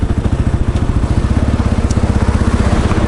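Indian motorcycle engine running steadily up close, a loud, even low-pitched thump with a regular pulsing rhythm throughout, no talk over it.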